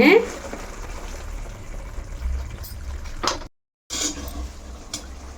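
Tomato-onion paste with cashew and butter boils in a pan, making a steady, close bubbling hiss with a brief dropout partway through, and a voice speaks at times.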